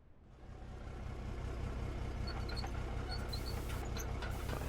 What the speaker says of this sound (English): Let's set up the excavator first.